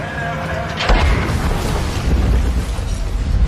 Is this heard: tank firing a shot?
yes